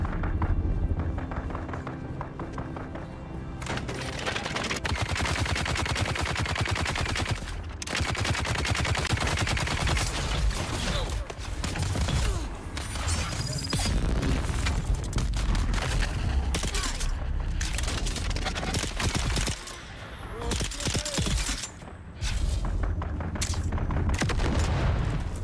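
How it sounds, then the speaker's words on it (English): NPCs exchange gunfire in the video game Dune Awakening: dense, loud bursts of shots and rapid automatic fire that run almost without pause for about 25 seconds, broken only by a few short lulls. "Based on the gunfire patterns, I would say that's NPCs fighting each other"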